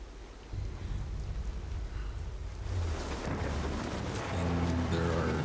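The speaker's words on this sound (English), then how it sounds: "Look at all this rain and fog coming in here." Steady rain and wind sweeping over open terrain in the video game Rise of the Tomb Raider, a dense wash of noise that thickens partway through, with low rumbling and faint game sounds mixed in beneath.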